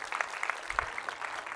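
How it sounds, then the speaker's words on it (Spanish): Church congregation clapping during a pastor's sermon to honor the King of Kings, a brief burst of scattered claps, fairly soft and close. "Denle un fuerte aplauso al Rey de Reyes."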